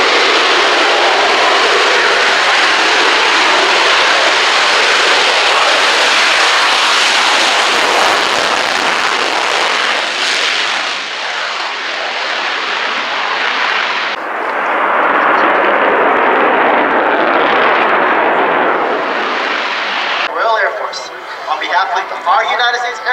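A Spitfire and a P-51D Mustang fly past in formation on a US Air Force Heritage flight at an RAF 100 airshow, a loud, swelling broadband engine roar that rises and fades while an announcer talks over it.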